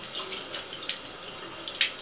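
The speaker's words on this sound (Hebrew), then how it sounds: "אני בהתחלה מחדירה מים בתוך הספוגית" Water from a tap runs into a makeup sponge during cleaning, a steady soft hiss and splash with a few brighter spatters, close and without speech.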